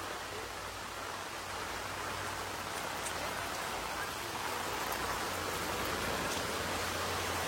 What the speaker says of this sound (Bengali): চলুন দেখুন মুষলধারা বৃষ্টি দেখুন।